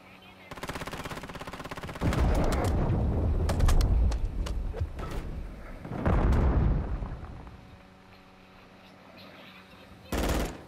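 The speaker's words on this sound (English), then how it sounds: "Friendly cruise missile deployed." Heavy rumbling blasts and rattling gunfire from a cruise missile strike in the video game Call of Duty, two big surges of explosion noise separated by quieter battle din, ending with a brief sharp burst.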